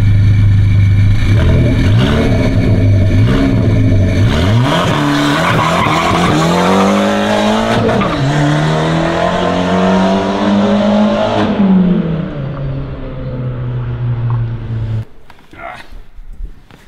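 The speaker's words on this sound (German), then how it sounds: "dann fahren wir schnell eine Zeit" A front-wheel-drive car launches hard on a 0-100 km/h run, its engine revving loudly and climbing through several gear changes with tire squeal. The car stays close, then the roar fades and cuts off near the end.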